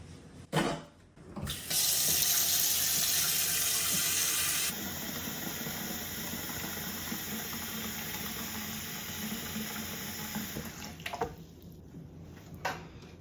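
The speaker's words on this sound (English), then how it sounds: "We're going to fill up this little 3-gallon fish tank with water." Running water pours steadily from a tap into a small 3-gallon fish tank, a loud rushing hiss that softens partway through as the level rises, with a few bumps.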